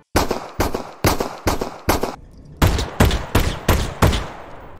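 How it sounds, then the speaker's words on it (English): Modded pistol firing in the VR game Half-Life: Alyx, ten sharp, loud shots in two quick bursts of five, each with a short ringing tail, with a brief pause between bursts. "It sounds nicer, and it's overall a much more satisfying pistol over the Valve one."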